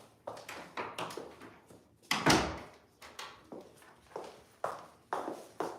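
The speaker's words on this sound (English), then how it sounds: "I just heard kids coming in the door." Children come in through a door at home, with a sharp door bang in the middle and light, irregular footsteps and taps before and after it, fairly close and clear.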